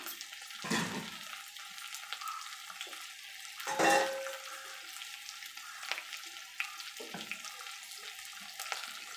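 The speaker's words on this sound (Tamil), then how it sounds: "தக்காளி கொஞ்சம் வதங்கணும் அந்த அளவுக்கு நம்ம வதக்கிக்கலாம்" Tomatoes and curry leaves sautéing in a pan for Chettinad-style fish curry, a faint steady sizzle broken by a few louder stirring scrapes and clatters spaced several seconds apart, no talking.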